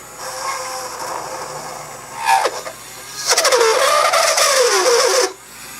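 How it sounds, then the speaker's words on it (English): A Dremel rotary tool with a taper bit whines at a high pitch while drilling a hole, rising and dipping as it bites into material, then cuts off abruptly. "How I go about drilling that hole is take my Dremel tool with a taper bit"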